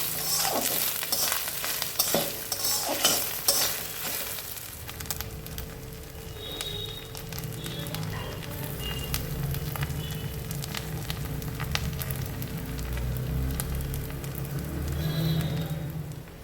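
Grated and chopped coconut with ginger paste, ground cumin, salt and turmeric fries in a pan, with a soft continuous sizzle and repeated scraping stirs, close and fairly quiet.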